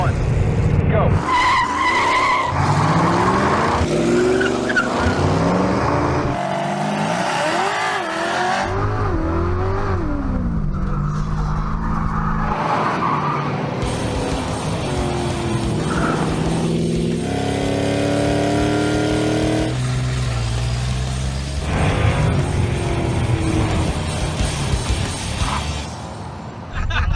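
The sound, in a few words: drag race cars accelerating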